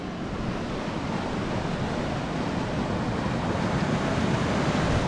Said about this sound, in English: And it looks like they have some channels maybe to come down here into this little waterfall.